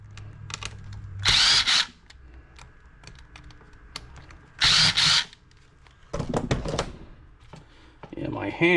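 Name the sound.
power drill removing screws from Logitech speaker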